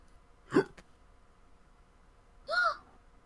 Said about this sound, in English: Is that a hiccup?